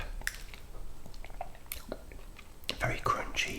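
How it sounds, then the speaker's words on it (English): Close, crunchy chewing of a Nestle Toffee Crisp chocolate bar with toffee and crisp layers, irregular crackles and soft wet squishes over quiet breathy background. "Very crunchy, and the added toffee makes it very yummy. Very chewy and crunchy."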